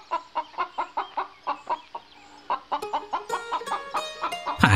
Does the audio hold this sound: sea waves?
no